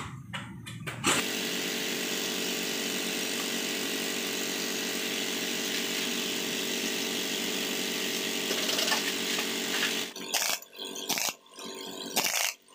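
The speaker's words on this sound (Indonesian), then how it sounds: "saya kencangkan pakai impact ya, tapi jangan khawatir selek karena torsinya udah diatur ya" An impact wrench tightening a nut on a motorcycle, one long continuous buzzing whir after a short start, followed by a few brief clattering bursts as it stops, loud and close.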